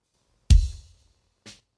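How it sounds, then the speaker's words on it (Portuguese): A single deep kick drum hit with no gate or compression, with a boomy, lingering tail, followed a second later by a faint high tick. "Esse é o som do bumbo, sem gate nem compressão."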